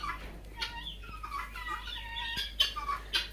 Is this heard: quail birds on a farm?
yes